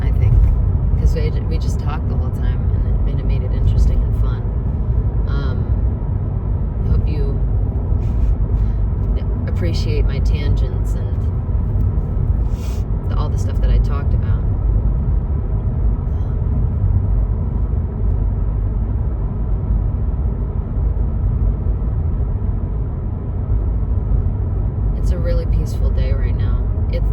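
Steady interior road noise from a car driving through fog: a constant low rumble and tire hum throughout, with brief faint rattles and clicks now and then.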